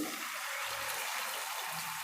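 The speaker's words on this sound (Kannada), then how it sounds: "ಈಗ ನಾನು ನೀರು ಸೇರಿಸ್ಕೊತೀನಿ" Water poured into cooked dal for sambar, a steady rushing pour that is broadband and even for about two seconds, close but soft, with no voices over it.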